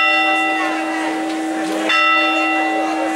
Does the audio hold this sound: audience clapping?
no